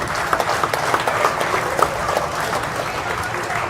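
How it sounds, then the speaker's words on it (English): Crowd at a bass fishing owners tournament on Lake Fork applauding the staff, continuous close clapping with a few sharper individual claps standing out throughout. "one more big round of applause for the Skeeter staff for putting this on"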